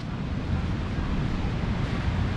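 Surf breaks continuously at Legian Beach in Bali, a loud wash of waves mixed with gusty wind buffeting the microphone, with no talking.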